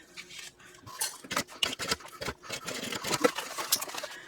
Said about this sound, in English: And then snip your threads